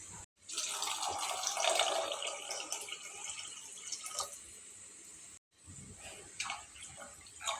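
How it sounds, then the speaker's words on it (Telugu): Water pours into a hot pan of fried semolina for amaranth-greens upma, a continuous bubbling, hissing stream that swells, dips and breaks off midway, then resumes with lighter drips and trickles, no voices. "నీళ్ళు పోసుకు ఒకటిన్నర గ్లాసు రవ్వకి రెండు గ్లాసుల సగం"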